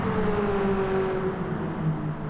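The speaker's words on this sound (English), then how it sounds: "Both cars at their rev limit coming through the turn there." A BMW E30 M3 and a Subaru race through a turn at Suzuka at their rev limits, a loud sustained high-revving engine drone with a steady pitch that slowly sags, continuous and close with no speech.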